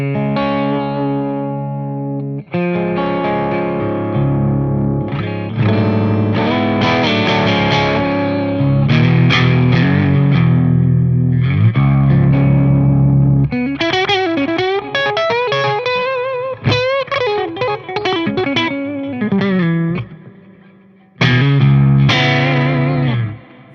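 An electric guitar is played through the position 4 aspirate sound setting, with strummed chords and picked phrases in a bright, driven tone, some notes bending, moderately loud across several bursts and short pauses, with no speech.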